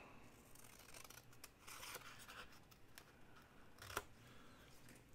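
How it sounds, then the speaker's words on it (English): Paper is cut with scissors to free a printed word for a journal banner tag, producing soft, quiet snipping and rustling with one sharper snip near the end. "let's cut out hot cocoa"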